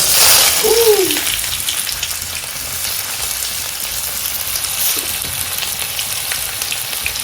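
Onion and curry leaves tempering in hot oil over a wood-fired clay stove, a loud continuous crackling sizzle that burst in strongly at the start, with a brief voice heard early on.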